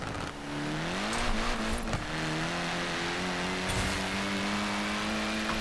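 A Mitsubishi Evo drifting through city streets in Forza Horizon 4, its engine droning steadily at high revs with sliding pitch shifts as the throttle changes, loud and continuous with no talk.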